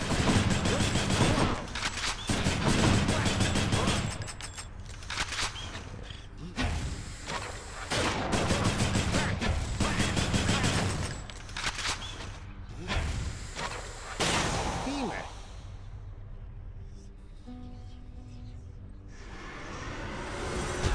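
Rail of Adamant (Hexagriff) firing in the video game Hades: dense bursts of rapid gunfire and whooshing blasts at close range with loud impacts, easing into quieter pauses near the end, with no talk.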